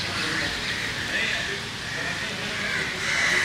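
Crows caw on a rainy day in a Mumbai city setting, with harsh calls blending into a dense, steady wash of outdoor noise and rain, continuous and moderately loud throughout.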